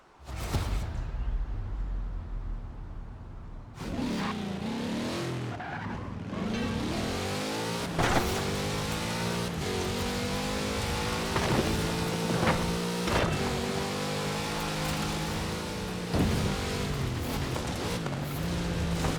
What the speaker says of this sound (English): All in all, a highly adequate rally car.